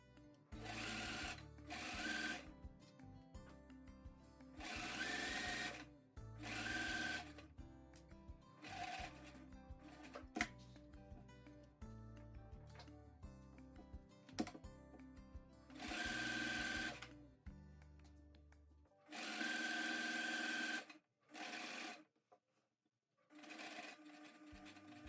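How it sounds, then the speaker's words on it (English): A home sewing machine stitches the top pocket edge of linen pants with a triangle stitch, running in steady motor bursts separated by brief pauses for pivoting at corners, close and alone without talk. "I'm doing the triangle stitch here again to finish the top edge of that pocket"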